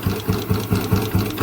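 A motorcycle engine idles with a rapid, regular ticking and knocking from latching timing gears, a steady mechanical rhythm repeating several times a second, close and fairly loud.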